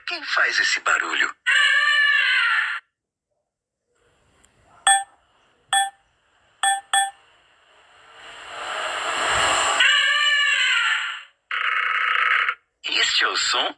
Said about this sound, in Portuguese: Este é o som do elefante.